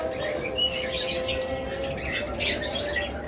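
A parblue male budgerigar chirps and warbles in quick bursts of chatter, near and fairly loud, with other budgies calling around it in an aviary.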